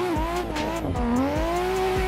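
Racing car in Assetto Corsa drifting in tandem with a modded engine sound: a loud, steady engine note that climbs and dips with throttle, with tyre squeal and repeated low thumps throughout.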